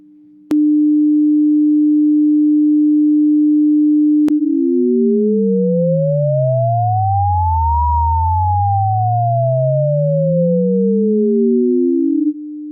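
Pure synthesized sine tones from oscillators: a steady tone holds, then splits into two pitches that glide apart in opposite directions and return to meet again, loud, clean and continuous without any voices.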